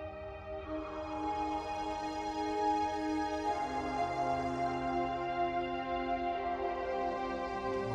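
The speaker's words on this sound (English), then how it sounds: "One of the accompanying tracks is coming up in volume now." A sustained bass organ track swells in volume beneath soft electronic pads and sound-effect layers, forming a smooth, continuous synthesized texture with a clear shift partway through and no speech.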